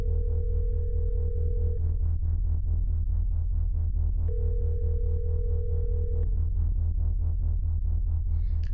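A telephone ringback tone in the Rev Dayz game, two long steady beeps separated by a pause over a constant low pulsing hum, loud and without speech.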